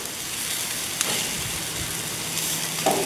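Chicken drumsticks sizzle and crackle steadily on an outdoor grill, a dense continuous fry close by, with a brief clatter as they are flipped.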